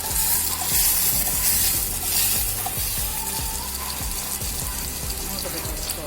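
Onion and tomato fry in a pan for kanda pulusu, a loud, dense, close sizzle with stirring scrapes throughout and faint voices in the background.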